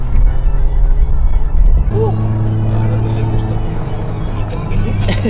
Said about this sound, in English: Dad taking Supra, giving a test run.